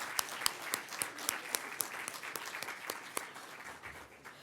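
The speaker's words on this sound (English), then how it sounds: "A round of applause to Kwantlen Polytechnic University." Steady applause from an audience at the 7th Surrey Arts and Business Awards, acknowledging sponsor Kwantlen Polytechnic University, with a few sharp claps standing out above the wash, heard at a moderate distance and fairly soft.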